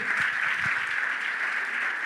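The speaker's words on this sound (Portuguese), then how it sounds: "Vamos aplaudir?" A church congregation applauding after a wedding blessing during a worship service, a steady wash of clapping heard alone and moderately quiet throughout.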